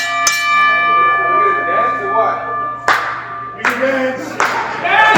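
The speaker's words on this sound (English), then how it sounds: "All right, ring the bell." A wrestling ring bell at a HWE event clangs sharply a few times, its bright ringing tones sustained and overlapping amid crowd noise and scattered claps.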